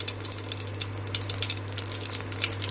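Whole spices (cloves, cinnamon, cardamom) with mustard seeds and cumin crackling in hot oil, a dense continuous sizzle with rapid popping bursts, close and moderately loud.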